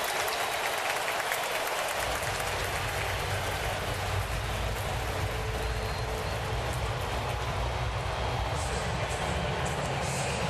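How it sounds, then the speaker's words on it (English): Baseball stadium crowd at an Angels vs Astros game in 2019 applauding George Springer, a dense, loud, continuous wash of clapping and crowd noise with no talk over it. "Definitely deserves the applause."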